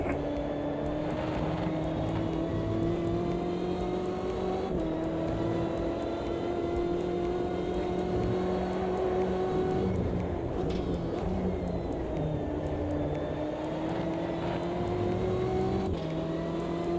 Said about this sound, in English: That gear change, there's a little crackle from the exhaust.